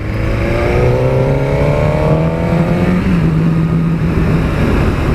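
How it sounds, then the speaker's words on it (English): A 2017 Suzuki GSX-R1000 motorcycle, a 200 horsepower machine, pulls hard through the gears on the road, its engine note climbing steadily and loud, with a shift around midway and constant rushing wind. "As you'd expect, the bike is blisteringly fast. It's a 200 brake horsepower machine"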